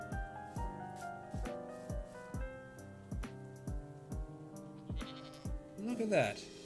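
A goat in a video game bleats repeatedly in short, evenly spaced calls, loud and close, over a steady musical background, with a final wavering bleat near the end.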